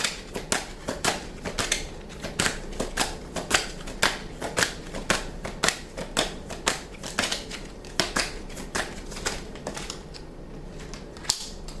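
Tarot cards are shuffled by hand close up, a steady run of crisp riffling snaps and flicks in quick irregular bursts, continuing alone without talk.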